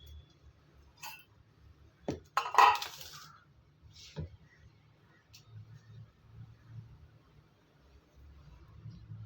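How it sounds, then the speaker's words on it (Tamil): An idli steaming plate handled in a home kitchen: a few metallic clinks and clatters, one louder rattle near the middle, then quieter taps over a low hum. "இப்போ ஒரு இட்லி தட்டில் வச்சு நம்ம வேக வச்சிடலாம்"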